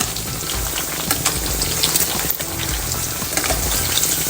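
Dense, steady sizzling and crackling of pork frying in hot oil, loud and close throughout with no voices.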